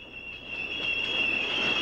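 A toy train on its track brakes to a stop, giving off a steady, piercing metallic wheel squeal that holds at a constant pitch for under two seconds, close by and with no one talking.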